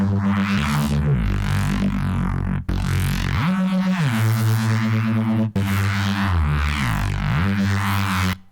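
Heavy neuro bass patch designed on an MPC, a thick growling synth bass in sustained, wobbling phrases with short gaps between them, loud and alone.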